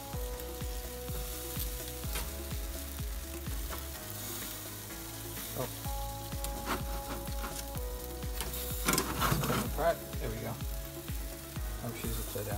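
A whole chicken sizzles on a barbecue grill with a steady hiss, repeated rhythmic ticking, and a louder burst of crackling partway through, while a voice briefly exclaims.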